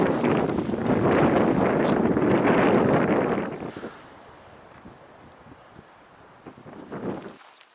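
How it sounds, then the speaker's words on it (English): Loud wind buffets the microphone on a forest hiking trail for about three and a half seconds, then drops to a quieter, gusty rush with scattered low thumps. "And it's getting windy out."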